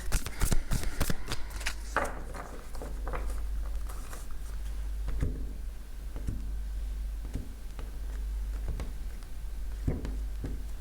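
Oracle cards being shuffled by hand, a steady papery riffle and patter that runs continuously at close range, busier in the first two seconds, with no voices.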